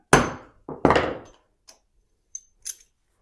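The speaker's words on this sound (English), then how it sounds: "and I give a little tap." Sharp taps strike a hollow mortise chisel lined up in a jig: two ringing knocks that die away, followed by a few faint light clicks, close and isolated.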